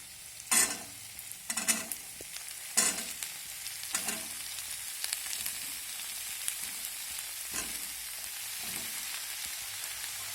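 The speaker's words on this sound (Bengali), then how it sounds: "এখন আমি সমস্ত সবজি একে একে এই কড়াইয়ের মধ্যে দিয়ে দেব।" Mixed winter vegetables stir-fry in a wok, a steady soft sizzle broken by several sharp bursts of louder frying and scraping as pieces are added one by one.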